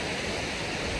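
Steady, loud rush of a waterfall close by in the Slovakian mountains, a dense continuous roar of falling water with no break and no voices.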